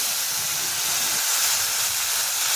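Leafy greens sizzling in a hot pan as they go in, a loud, dense hiss and crackle that stays steady throughout with no voices over it.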